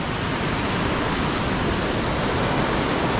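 Steady broadband roar of a waterfall cascading down a northern Wisconsin river near Lake Superior, loud, close and continuous without pause, with no voices.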